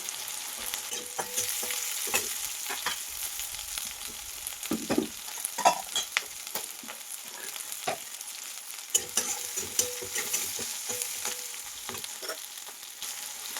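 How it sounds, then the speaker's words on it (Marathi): Onion and green chillies fry in a pan with a bright, steady sizzle, cut by repeated clicks and scrapes as they are stirred. "कांदा आता चांगला भाजत आलेला आहे आणि त्यात मी आता हिरव्या मिरच्या टाकायला लागली आहे"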